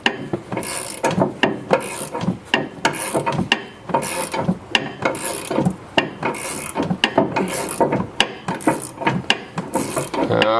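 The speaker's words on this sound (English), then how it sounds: "Okay, coming off any minute now. Any minute it should pop out. Perfect. Sway bar link came out." Repeated scraping, ratcheting and tapping as the front sway bar link is worked loose and pulled from a Chrysler 300, a steady metallic rhythm of rubs and knocks close by with no voices.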